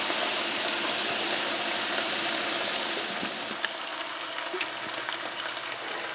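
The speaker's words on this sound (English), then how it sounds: "put the cover on this, I'll let her saute or sear up" Carne asada steak searing in a covered pan, a loud continuous sizzle with crackling pops heard up close, easing slightly toward the end.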